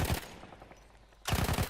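Gunfire in Battlefield 1: two short bursts of rapid shots, one at the very start and a louder one near the end, with a quiet gap between them.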